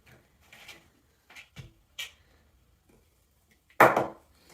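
Pepper chopped with an adaptive chopping tool: several light, irregular taps and cuts, then one louder, fuller chop near the end, close up in a quiet room.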